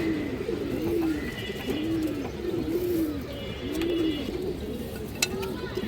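Bagha pigeons, including a black Bagha, give repeated soft rolling coos close by in a loft, several overlapping calls in a steady rhythm, with a few faint chirps and a brief knock.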